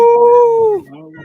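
People in a radio studio imitate wolf howls with their voices: a loud, sustained, tonal howl holds steady, then slides downward and drops away into a quieter tail.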